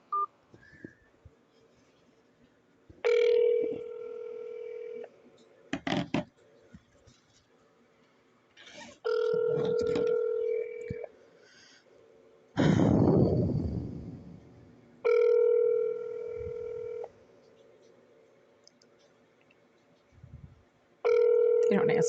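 An office phone line rings out unanswered during a call, with repeated electronic ring tones in regular bursts, some separated by pauses, plus keypad tones and a rushing noise partway through, close and clear.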